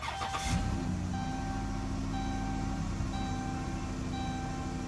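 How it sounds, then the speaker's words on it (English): A car engine cranks briefly and catches, then settles into a steady close idle hum with a faint repeating chime over it. "I'm going to start the vehicle and then see how it works."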